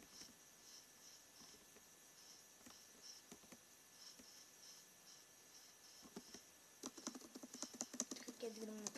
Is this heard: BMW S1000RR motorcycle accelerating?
no